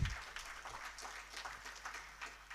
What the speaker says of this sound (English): Ladies and gentlemen, a big round of applause for ST Engineering.